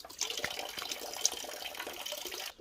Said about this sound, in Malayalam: ഒരു കല്ലിൻ്റെ ഉള്ളിൽ നിന്ന് വെള്ളം വരുന്നതുകൊണ്ടാണ് ഇങ്ങനെ ഒരു സ്പോട്ട് ഉണ്ടാക്കിയിട്ടത്.